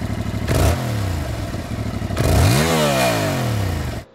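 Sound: Yamaha R7 motorcycle with stock exhaust revving

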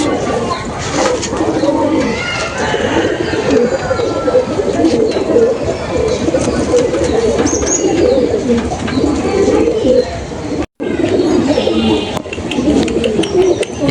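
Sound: Madras pigeons cooing

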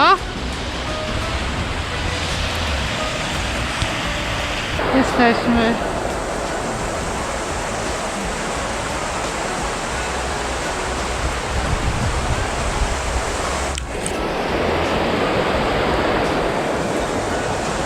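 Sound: rushing water

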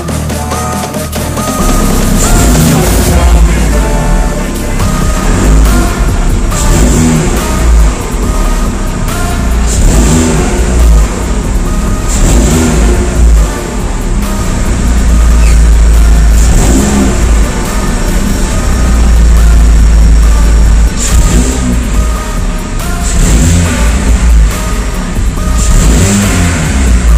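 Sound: Opel Corsa E revving with new sport exhaust

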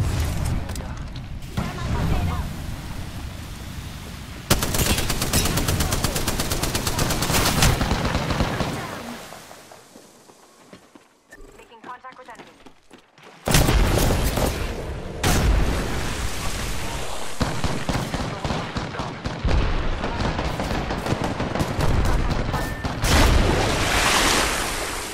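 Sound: gunfire in video game Apex Legends

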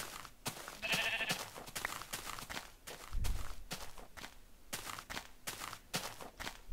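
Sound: sheep bleating in Minecraft video game

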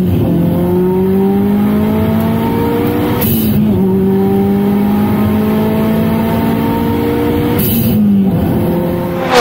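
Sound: 345 horsepower sports car engine accelerating

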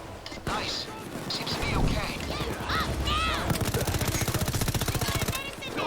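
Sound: gunfire in the video game Payday 2

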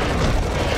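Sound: cannon shots and explosions in video game Serious Sam

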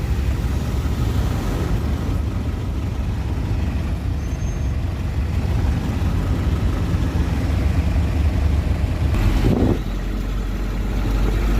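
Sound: road traffic noise on the other side

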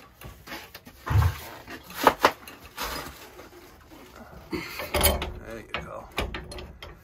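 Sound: tightening a boiler pipe fitting with a wrench

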